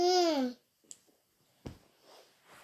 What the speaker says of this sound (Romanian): Dacă auziți un glas de bebe.